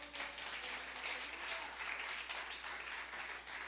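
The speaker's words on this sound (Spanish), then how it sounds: "Démosle un fuerte aplauso al Señor." A church congregation applauds, a dense, continuous wash of many hands clapping that sounds fairly distant and steady, without speech.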